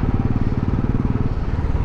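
A motorcycle engine chugs close by with a steady, rapid rhythmic thump, loud and continuous throughout without voices.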